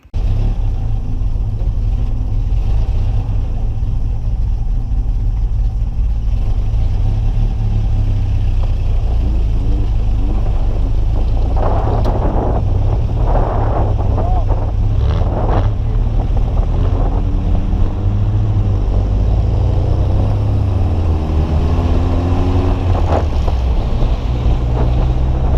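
A car descends a mountain road toward Aspen in third gear, a steady low engine and road drone mixed with heavy wind buffeting throughout, no voices.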